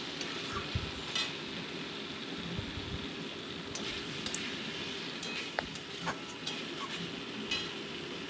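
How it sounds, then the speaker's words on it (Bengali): Water poured into a sizzling bhola fish curry masala with potatoes and eggplant, a steady hiss and crackle of frying with occasional stirring clinks, fairly close and continuous throughout. "এবার আমি দিয়ে দিচ্ছি পরিমাণ মতো জল এর মধ্যে"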